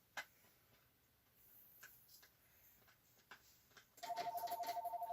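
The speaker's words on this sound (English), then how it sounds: "And I have a phone call." Telephone ringing with a rapid, pulsing electronic trill that starts near the end, after a stretch of faint ticks and small handling noises.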